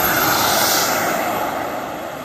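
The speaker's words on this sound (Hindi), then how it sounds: "धूल उड़ाता ये जहाज टेक ऑफ के लिए तैयार है।" A model airplane's engine at takeoff on a dusty field in Lahore gives a loud, steady, high buzzing drone that eases off slightly toward the end, with no voices.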